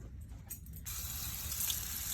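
Water from a tap or hose gushes into an engine block's water jacket during a rebuild, a steady close rushing splash that starts after a brief sputter and runs on alone.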